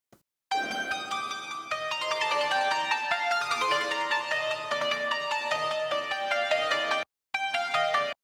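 A hyperpop synth preset named Horror from a hyperpop sample pack plays a bright, dense sustained chord pattern with shifting notes for about seven seconds, cutting out briefly near the end before resuming.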